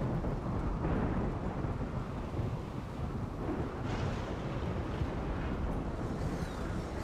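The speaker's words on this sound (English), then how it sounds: "It's raining." Heavy rain and a thunderstorm in the video game Rimworld: a dense, loud roar of rainfall with low rumbling swells and gusty noise running continuously, no voices.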